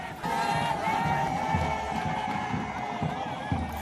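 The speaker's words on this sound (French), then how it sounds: "la première ministre Judith Suminwa Tuluka entre en scène sous les ovations d'un peuple enthousiaste" A large enthusiastic crowd in Kolwezi cheers and applauds as the prime minister walks on stage, a dense continuous roar of voices and clapping with shouts rising above it, steady and loud throughout.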